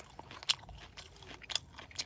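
Crunchy fried bread like a small fried doughnut is bitten and chewed up close, giving two sharp crunches among quieter chewing sounds, with no talk.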